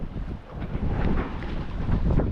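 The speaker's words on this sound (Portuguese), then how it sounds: "Olha pra isso, velho. Vento, é vento, é vento." Strong wind gusts buffet the microphone on open water during kayak fishing, a steady roaring rumble with surging peaks and choppy water noise underneath, close and loud throughout with no talking.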